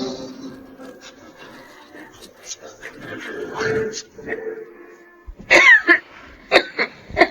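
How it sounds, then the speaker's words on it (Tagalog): Harsh coughing bursts break out near the end, following a stretch of rustling and shuffling noises, with people talking. "Kanina ka pa ubo ng ubo ah"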